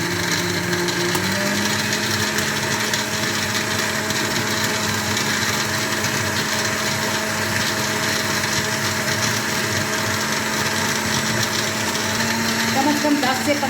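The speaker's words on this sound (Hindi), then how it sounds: "उसके बाद मैं फिर इसको दोबारा ब्लेंड करूँगी" An electric kitchen blender runs continuously, blending a falsa fruit drink with tamarind and plum, a loud, steady motor whine with a slight pitch shift near the start and constant churning underneath.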